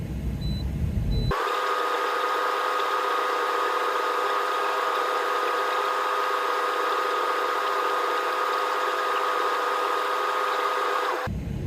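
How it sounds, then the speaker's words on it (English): A 2024 International truck engine idles steadily to build air tank pressure, a constant droning hum with even vibration heard from inside the cab, unchanging for about ten seconds between abrupt starts and stops, no talking. "I'm going to air my air tanks up back to 120 to 140 psi or the governor cutout."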